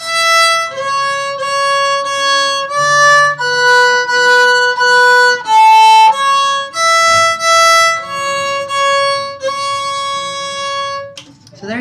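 Solo violin plays the fourth line of the beginner tune Lightly Row, a clear stepwise melody of sustained, evenly paced notes played close and alone with no talking.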